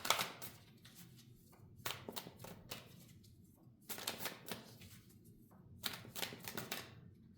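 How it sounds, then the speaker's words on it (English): Tarot cards being shuffled and pulled from the deck, with bursts of riffling and sliding card noise separated by quieter pauses, close by and with no talking. "I'm gonna pull a few more cards"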